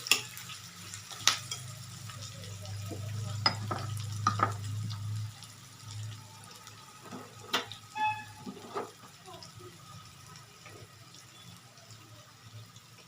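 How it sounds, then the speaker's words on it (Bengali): Onions being stirred as they fry in a pan, with a faint steady sizzle and a few soft scrapes and knocks of the spoon, all fairly quiet and unhurried. "দিয়ে পেঁয়াজটা এখন আমি নাড়াচাড়া করে মিডিয়াম ভেজে নেব।"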